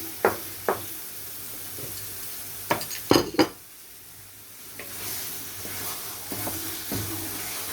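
Vegetables are sautéed in a pan, with sharp utensil clanks and scrapes against the cookware over a soft background sizzle.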